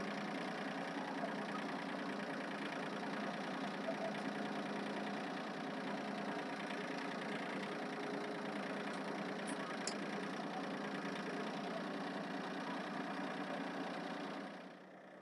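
An engine idles steadily with a faint, even knocking rumble, moderately distant and low in level, continuing unchanged for the whole stretch.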